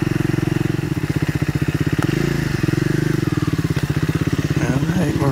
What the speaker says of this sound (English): First ride on the scrambler. Let's do some scrambling